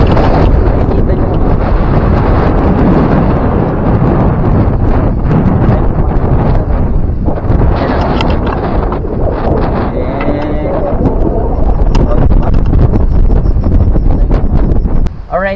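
Very strong wind roaring across the microphone during a mountain climb, loud and continuous buffeting with a voice talking faintly underneath throughout.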